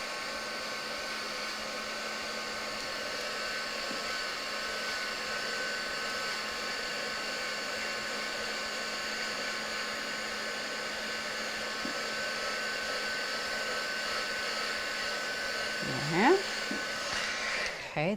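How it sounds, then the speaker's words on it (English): A heat tool blasts hot air to dry ink on a glittery snowflake Christmas craft card, a steady close whirring hiss that runs unbroken for the whole stretch before a few faint handling knocks near the end. "So bring in my heat tool, give it a nice set."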